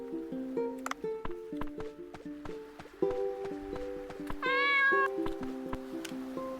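Several cats meowing in short separate calls, with one longer, louder yowl in the middle, close by over a busy background of faint clicks and taps.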